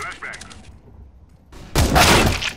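Gunfire in Counter-Strike: Global Offensive: a quiet stretch, then a loud burst of rapid shots near the end, with a voice talking.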